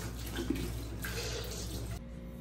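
Water pours steadily while a utensil is rinsed during home cookie making, a close continuous splashing stream that cuts off near the end.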